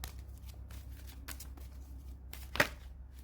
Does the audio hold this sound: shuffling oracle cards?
yes